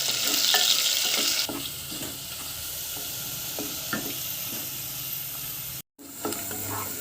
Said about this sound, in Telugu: ఉల్లిపాయలు అయితే ఏగిపోయినాయి.